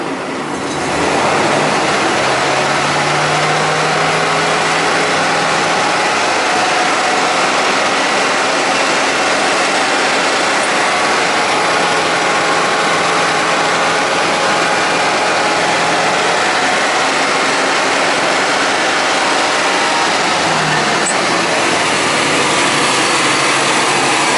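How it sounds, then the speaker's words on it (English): A boat's engine runs steadily with the throttle pulled up a little, a loud, continuous close drone with a constant whine and no change in rhythm, heard alone without speech. "Go ahead and pull the throttle up a little bit."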